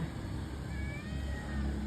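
A cat perched up in a plant meows with a thin, drawn-out cry over a steady low background rumble; no talking.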